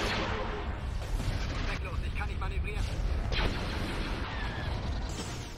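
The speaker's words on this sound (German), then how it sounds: "Er ist aber gerade explodiert" Explosions and battle noise rumble through the Star Wars strategy game Empire at War, with dense low booms over continuous clatter and a person talking underneath.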